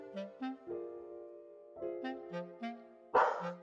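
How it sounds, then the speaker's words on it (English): A dog gives a series of short barks and yips in two clusters, close and fairly clear over a tonal musical background, ending with a louder, rougher bark. "My dog's talking."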